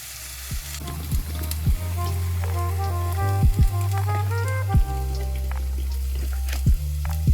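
Eggs frying in a pan give off a loud, continuous sizzle and crackle close by, with occasional sharp pops and light utensil taps, no voices.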